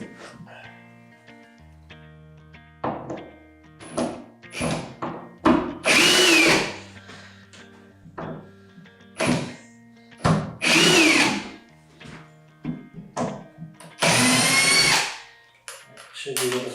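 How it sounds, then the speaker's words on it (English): A power drill backs screws out of the rear of a wooden Halloween coffin board in several whirring bursts of varying length, close and loud, with quieter handling knocks and brief talk between them. "So I'm gonna take a couple screws off on the back side so that way I can move this board"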